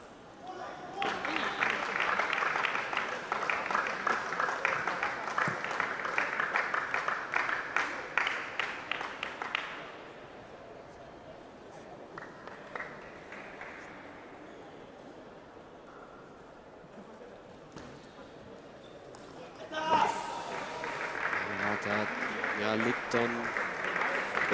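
Crowd at a youth table tennis tournament quarterfinal applauding and cheering in two loud bursts, a sustained clapping stretch at the start and another after a quieter gap with commentators talking over it.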